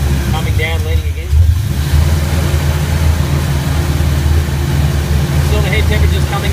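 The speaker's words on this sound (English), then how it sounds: "Increase the mixture, hear the engine RPM pick up." A loud Rotec aircraft engine on a test stand drones continuously up close, its pitch wavering as the revs rise and fall with fuel mixture changes, with a voice briefly audible over it.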